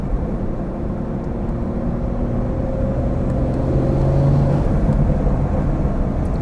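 A BMW 440i with a Stage 2 tune pulls hard in second gear, a deep engine drone rising steadily in pitch and loudness from inside the car, with road rumble underneath.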